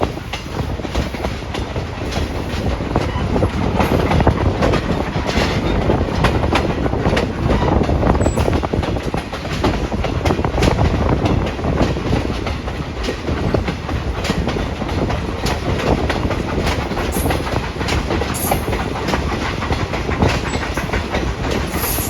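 Steam locomotive 765 hauls an excursion train, giving a loud, steady, close rumble of rolling wheels and clattering cars that carries on without a break and with no talk.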